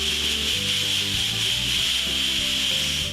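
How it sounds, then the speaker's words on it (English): Emery cloth scrubbed against the inside rim of a brake rotor to remove rust makes a continuous abrasive rasping, with rapid back-and-forth strokes at close range and no talking. "Use the emery cloth to clean the inside rim."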